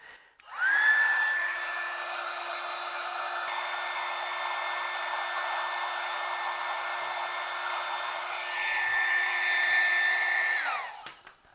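A Romech mini heat gun runs for about ten seconds while shrinking heat shrink tubing, a steady close whine and airy hiss that starts abruptly and cuts off at the end.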